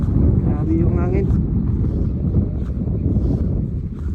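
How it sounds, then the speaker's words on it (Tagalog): Strong monsoon wind gusting outdoors, buffeting the microphone in a continuous loud low roar, while a person talks briefly over it. "Grabe yung hangin."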